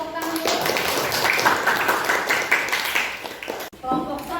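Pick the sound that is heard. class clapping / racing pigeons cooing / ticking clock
class clapping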